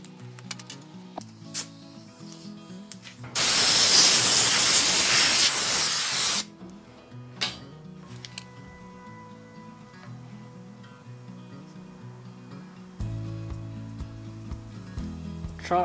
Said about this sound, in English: I'm going to clean everything down first though with some degreaser so it's not all greasy